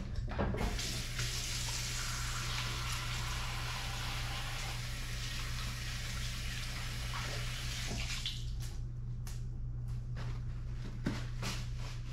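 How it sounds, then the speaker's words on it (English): Tap water runs steadily into a bathroom sink while hands are washed, a close, constant splashing rush that stops near the end, followed by a few small drips and clicks. "Wash my hands."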